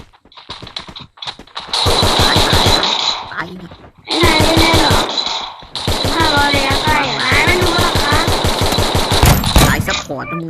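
Rapid bursts of automatic gunfire from the mobile battle royale game Free Fire MAX. The shots come in dense, loud volleys that run almost continuously, with excited voices shouting over them.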